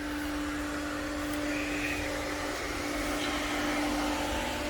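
A Pentair IntelliFlo VSF variable-speed pool pump hums steadily at close range, a smooth continuous motor drone with a tonal whine and no change in level.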